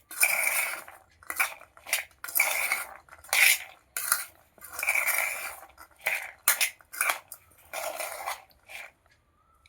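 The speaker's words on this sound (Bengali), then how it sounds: "এবার এটাকে ভালো করে মাখি।" Spiced chickpeas (chana) being mixed in a bowl, with repeated clinks and scrapes of a utensil against the dish in short bursts, close and fairly loud, with no one talking.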